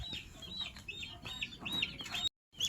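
Several chickens cluck in short bursts nearby, with scattered higher chirps over a steady outdoor background; the sound cuts out briefly near the end.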